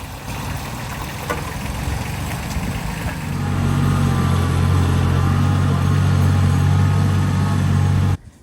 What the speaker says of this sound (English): We tried using the car to tow the trailer full of rubble since Lincoln had reattached the mowing deck